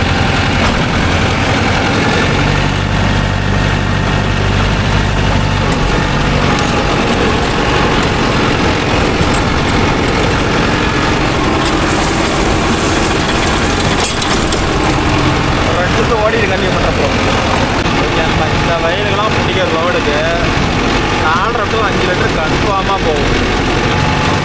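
A Mahindra Arjun Novo 605 DI tractor pulling a rotavator through field soil, its diesel engine running loud and steady throughout at close range, with a constant heavy drone.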